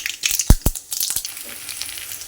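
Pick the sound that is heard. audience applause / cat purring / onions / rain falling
onions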